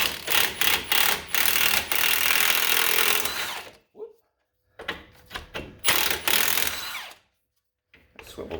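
A socket on a swivel driven against a 21 mm nut on a Ford F150, heard as bursts of loud power-tool whirring and rattling separated by short silences.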